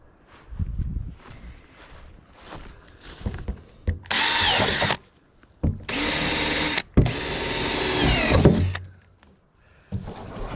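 Power drill boring holes into scrap metal in an open yard, three loud bursts of whining, grinding drilling separated by short pauses, with faint clatter and background noise between them.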